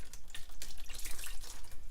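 Paint thinner poured out of a Sprayit SP33000 spray gun cleaned of oil-based paint, a splashing, gurgling liquid pour that runs continuously and unevenly, close and fairly loud, with no talking.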